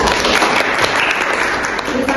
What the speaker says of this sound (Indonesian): Kita berikan tepuk tangan kepada mereka.